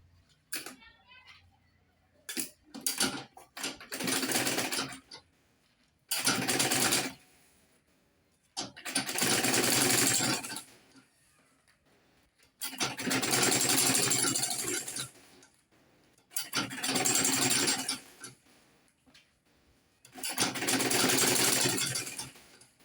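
Sewing machine top stitching a fabric shoulder bag, running in several separate bursts of a few seconds each with short pauses between, close and fairly loud, with brief clicks and handling sounds at the start.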